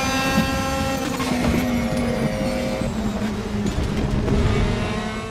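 Race car engines in Raceroom during an overtake, a loud sustained engine roar with rising and falling revving tones and the whine of other cars close by, continuous with no talking.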